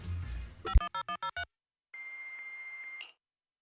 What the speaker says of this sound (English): that data pile you hacked into just beeped